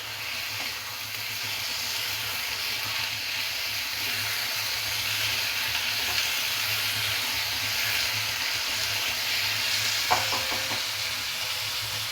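Chopped tomatoes fry in a pan, a steady close sizzle and hiss with occasional stirring scrapes and a brief clatter near the end, no voices.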